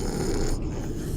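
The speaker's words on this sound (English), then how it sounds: "I can hear them snoring." A sleeping person in the game Shadows of Doubt snores with one rough, rattling breath, heard nearby over a steady low rumble of background noise.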